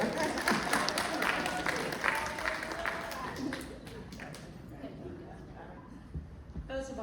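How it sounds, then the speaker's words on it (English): Audience applause at a Town of Bladensburg community film screening and panel event on mental health awareness: a crowd claps steadily, fairly loud and sustained, then fades as a person begins talking over it. "Give yourselves a round of applause."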